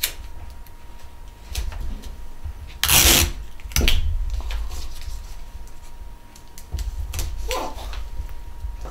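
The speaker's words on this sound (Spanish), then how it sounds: "ahora la parte de atrás, esta parte de acá, vamos a usar scotch" Scotch tape is pulled and pressed onto the back of a craft piece, giving rubbing and rasping strokes with one loud tearing burst near the middle, close and clear with no talk.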